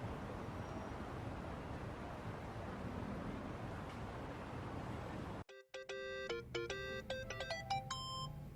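A mobile phone ringtone in the video game Yakuza: Like a Dragon cuts in after a steady rumbling ambience drops away, a bright electronic melody of clipped tonal notes playing clearly and close in the final few seconds.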